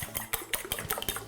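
Ham, cheese, pepper and onion being stirred together in a bowl with a fork, giving a quick run of clinking, scraping strokes against the bowl with a steady rhythm, close and moderately loud, with no talking.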